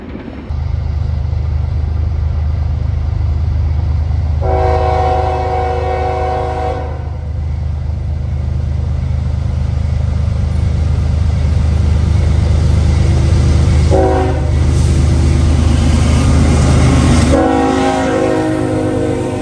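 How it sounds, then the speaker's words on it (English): A BNSF SD70M locomotive in green and white paint hauls a freight train past, a loud rumbling roll of engine and wagons sustained throughout, with several strong horn blasts sounding near the start, the middle and the end. "a BNSF SD70M in the green and white Executive Grinstein paint"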